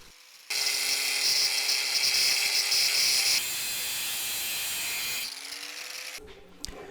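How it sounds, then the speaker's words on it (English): Angle grinder fitted with a steel cutting disc slicing through steel pipe: a loud, steady high whine with a dense abrasive hiss for several seconds, easing slightly before cutting off, then a brief quieter tail. "I used an angle grinder with a cutting disc for steel and really enjoyed seeing the sparks in the pipe"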